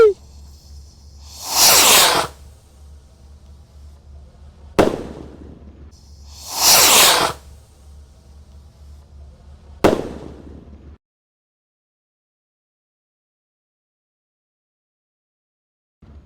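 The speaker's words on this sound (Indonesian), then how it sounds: "Sudah menyala, roket siap meluncur." Firework rockets lit during a Ramadan night celebration, each giving a sharp pop followed by a loud rushing whoosh as it climbs, twice in succession, then a final crack before silence.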